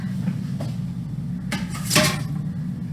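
Inner pot of an Instant Pot being set down into its cook base, a few light metallic clunks and a scrape, with one louder knock near the end, quiet and close.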